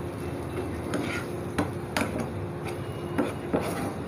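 Cooked chicken being stirred and mixed in a pan with the stove turned off, scattered light scrapes and clinks of a utensil against the pan over a steady background hiss.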